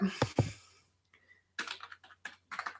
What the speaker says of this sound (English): So I was going to type something for you.